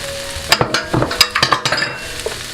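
Frozen mixed vegetables of string beans, carrots, corn and peas sizzle in a hot pan for coconut curry potato, with a steady fry hiss broken by quick scraping stirs and light utensil clinks.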